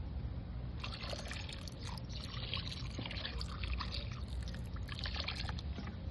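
Vinegar poured into water holding goat meat while cooking outdoors, a continuous splashing, trickling pour that starts about a second in and runs steadily to the end, close and moderately loud.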